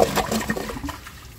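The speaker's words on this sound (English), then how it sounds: "It unclogged itself while the tank was filling, so didn't need a second flush." A 1959 Standard Compton toilet tank refills after a flush, with close, rushing water that splashes briefly and then fades into a softer trickle.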